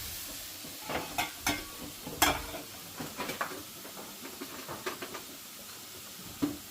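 Fish curry being stirred in a pot during cooking, with a series of sharp scrapes and clinks from the spoon against the pan at uneven intervals, moderately near, over a faint simmering background.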